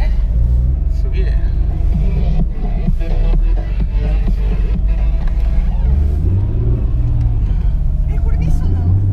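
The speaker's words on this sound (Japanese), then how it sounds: "GTR のエンジンでハイエースのノーマルのミッションがくっついて ます" A Toyota HiAce van fitted with a Nissan GT-R engine and the stock HiAce transmission rumbles deep and loud, its pitch climbing as it revs, while people talk over it.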